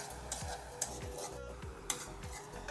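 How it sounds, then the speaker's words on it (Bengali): A spoon scrapes and taps in a pan while potol curry with gram flour, Bengali style, is sautéed; soft, rhythmic stirring clinks sit over a faint, low sizzle, quiet and close. "তো আমি আর একটু কষিয়ে নিচ্ছি"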